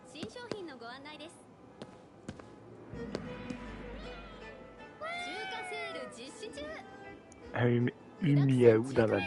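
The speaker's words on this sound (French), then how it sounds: "C'est un chat? Un yokai, pour être précis." A cat-like yokai in the video game GhostWire: Tokyo gives several short meows between spells of talk. A loud, harsh burst at the end sounds like a caterwaul.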